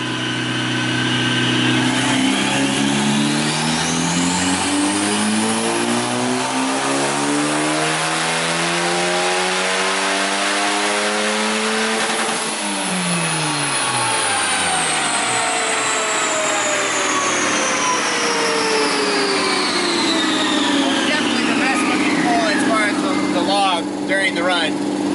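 Turbocharged SOHC car engine, fuel-pumped by a maxed-out Walbro 450, revving hard and loud on a boost run, its pitch climbing steadily, dropping sharply, then sweeping up again in a long continuous roar.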